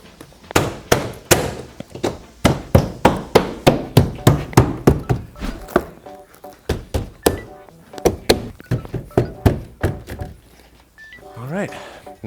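A BMW M6 interior door panel being pressed and tapped back into place, a long run of firm, close thunks and knocks in a quick irregular rhythm, with a voice speaking briefly near the end.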